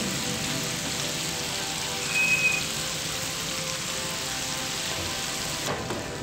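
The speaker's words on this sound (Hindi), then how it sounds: "इसे मैं फ्राई कर लूंगी।" Food frying steadily in a pan during home cooking of a malai boti, nugget, biryani and Alfredo pasta meal, a continuous even sizzle and crackle holding constant close by, with no talking.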